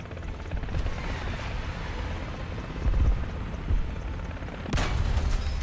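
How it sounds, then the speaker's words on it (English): An enemy helicopter in a tank-combat video game gives a steady, close rotor roar throughout, mixed with thumps of battle gunfire and a sudden loud burst near the end. "That enemy heli."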